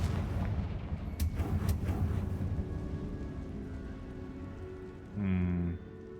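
Confringo blasting spell impacts in Hogwarts Legacy, a few sharp cracks over a low rumbling game backdrop, then a louder resonant whooshing burst for about half a second near the end.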